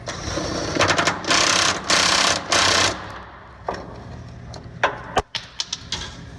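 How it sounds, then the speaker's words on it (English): Impact wrench with a socket on a truck bed bolt under a Silverado, several loud close bursts of hammering rattle in quick succession, then quieter clanks and metallic knocks as it stops. "get your socket, and your impact to go right up there"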